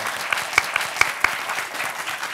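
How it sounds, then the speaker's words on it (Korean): Studio audience applause at a Korean televised panel discussion: dense, even clapping from many hands, fairly close and steady for the whole stretch with no voices over it. "박수 한번 주셔야죠"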